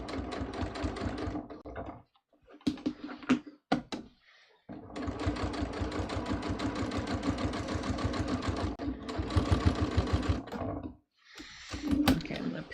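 A sewing machine stitching a hem runs in rapid, even bursts of mechanical chatter, stopping and starting with brief pauses between runs, heard close up while a person talks at times.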